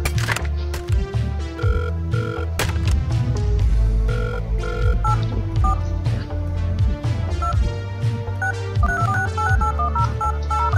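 A telephone rings inside the Surgeon Simulator video game, a repeated electronic ringing tone layered over dense, steady game music and sound effects, with no talking.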